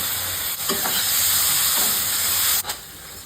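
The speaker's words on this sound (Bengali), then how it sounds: "মশলাটা কষানোর সময় আমি টমেটো দিয়ে দিচ্ছি।" Masala with tomato sautés in oil, a loud, close sizzle and hiss with stirring scrapes; the sizzle briefly dips around the middle and near the end as ingredients are stirred, and no one speaks.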